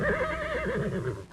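A horse gives a loud, wavering whinny close by, and its pitch rises and falls rapidly before trailing off. No voices are heard.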